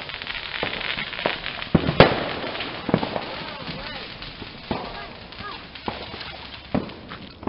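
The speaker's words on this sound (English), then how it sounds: "he's trying to get the artillery shell lit" An artillery shell firework being lit outdoors, with sharp firecracker-like pops and bangs scattered through the clip, a strong crack near the two-second mark, and people talking and calling out in between.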